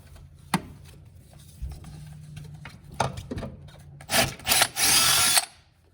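Power drill boring a hole for a rivet nut while installing a catch can on a Foxbody, a few short whirring bursts and taps building to a loud sustained high drilling run near the end.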